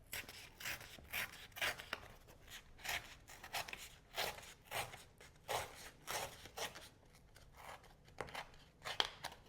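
Watercolor paper is torn by hand in a series of short, crisp ripping bursts, about a dozen quick tears close up and fairly quiet.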